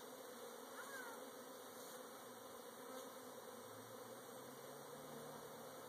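Bees buzz steadily around a small hive of roughly a pound or two during a cutout at a house, a continuous faint drone with no pauses and no voices.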